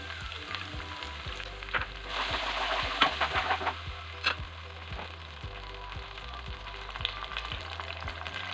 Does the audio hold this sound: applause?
no